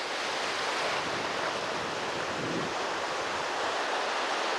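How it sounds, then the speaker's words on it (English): Ocean surf rolls and breaks on the beach at Sea Isle, 59th Street, New Jersey, a broad continuous roar with a swelling crash midway, close and loud, mixed with wind buffeting the microphone. "Here comes a big wave."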